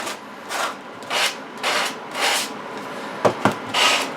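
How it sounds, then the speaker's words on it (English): Hand sanding with 220 or 320 grit sandpaper rounds over the edges of a wooden jewelry box: about six steady rubbing strokes spaced roughly half a second apart, close and clear, with a couple of sharp taps near the end. "just take your 220 or 320 sandpaper and just round over the edges"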